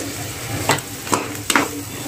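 Masala for masala bhindi is stirred in a pan, three distinct scraping strokes over a low sizzle, close by, with no talking.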